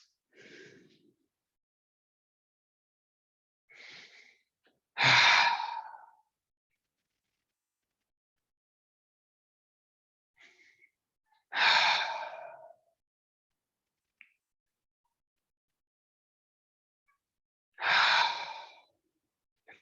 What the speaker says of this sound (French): Respiration